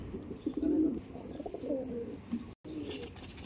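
Soft, throaty pigeon coos repeat in short rolling phrases, close by, with a brief dropout partway through.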